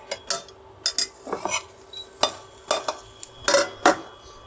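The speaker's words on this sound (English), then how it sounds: "The first thing we're going to do is cook the eggs." Eggs cook in oil in a pan on a 1.8-kilowatt stovetop, with a run of close, sharp utensil scrapes and taps against the pan over a soft background sizzle, and no talking.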